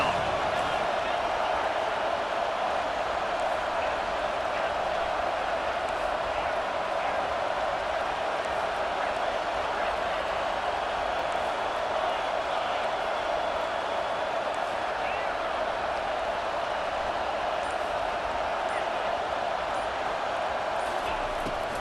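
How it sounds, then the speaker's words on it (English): A home crowd roars in EA Sports College Football 25 during a Notre Dame vs Clemson game as the defense faces third down, a dense, steady stadium din that holds without break throughout. "Here comes this home crowd as the defense tries to get off the field on 3rd down."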